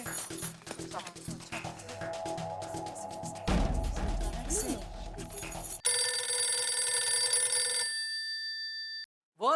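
A telephone rings with a bright electronic trill during the later half, preceded by a noisy stretch of background sound and a brief thump, in a household scene from an Indian family comedy.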